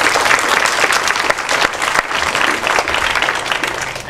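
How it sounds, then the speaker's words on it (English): An audience at a Japan earthquake charity talk at SMU gives sustained applause, a loud, dense patter of clapping that stays steady from start to finish. "So please give also the applause to them."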